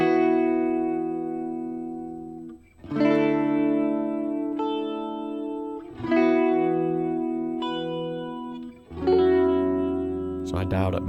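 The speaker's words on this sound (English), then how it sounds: "So on this one here, I've used Chorus." KiloHearts chorus plugin effect with reverb on a sustained synth or keyboard tone, swelling in three long chord phrases with shimmering, wide modulation and a lingering reverberant tail.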